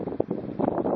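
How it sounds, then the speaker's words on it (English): Gusty wind on a lake, about 40 degrees, buffets a microphone in a low, rumbling rush, rising and falling over about a second. "It's about 40 degrees and very windy."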